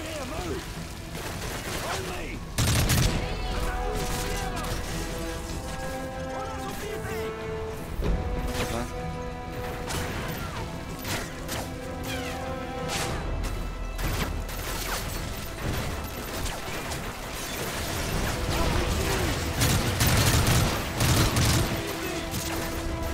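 Gunfire from the Call of Duty: Modern Warfare 3 video game: bursts of fusillade and machine-gun fire with booms and crashes, loud and sustained through the stretch, mixed with other game sounds and some talk.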